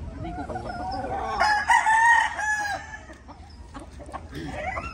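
A backyard-raised rooster crows once nearby, a loud rising-and-falling call, with clucking and other barnyard noises around it and someone speaking faintly in the background.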